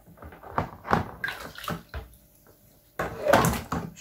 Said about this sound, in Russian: Можно смывать уже.